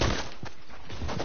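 Shotgun blasts go off in a video game, two or three heavy, rapid booms packed into just over a second and sitting close and loud against a dense background.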